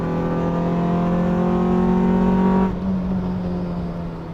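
EK4 Honda Civic street-legal track car in the Kanjo racing style, engine revving hard with a steady strained drone that cuts off abruptly, then settles into a lower rumble.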